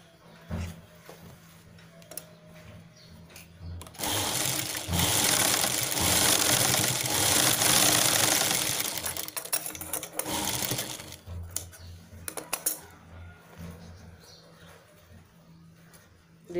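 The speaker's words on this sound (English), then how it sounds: "Now we stitch this shape." A domestic sewing machine stitches a velvet purse in one loud, steady run of several seconds, then slows into a few short bursts, with quieter handling noise before and after.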